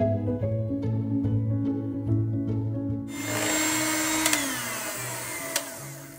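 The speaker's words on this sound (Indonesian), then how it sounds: "Setelah itu mixer sampai adonan tercampur dengan baik." An electric hand mixer beats lidah kucing cookie batter with a steady whirring motor hum. About halfway through the whine shifts and turns rougher and noisier, with a couple of sharp knocks near the end.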